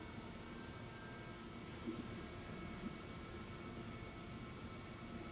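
A helicopter engine settles into a steady, faint whine and rumble after the starter is released, a constant hum with no talk over it.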